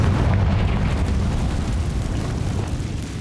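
A Confringo spell in Hogwarts Legacy blasts out as a loud, dense rumbling explosion that slowly decays over a few seconds, standing alone without speech.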